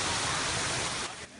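The Molina falls pour with a dense, hissing roar that stays steady and close before dropping away sharply near the end.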